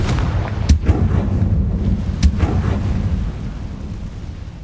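The Confringo fire spell in Hogwarts Legacy sets off a loud, sustained rumbling blast, with a couple of sharp explosive cracks cutting through the heavy roar.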